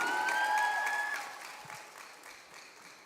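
Crowd applause at a political rally, broad and fairly steady at first, then fading to a lighter patter over a few seconds, with a brief tonal whistle early on.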